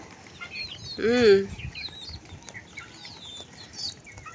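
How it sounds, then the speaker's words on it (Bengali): Chickens squabbling in a rural backyard: one loud, brief squawking cluck burst rises mid-clip above a quiet bed of faint bird chirps and soft scuffling. "আমার মুরগিগুলা কিটকুট মুরগিগুলা দেখেন, এই যে মারামারি করে"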